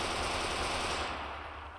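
Rapid continuous automatic gunfire from a gun in a Minecraft weapons mod, loud and dense for about a second before trailing off, with no talking over it.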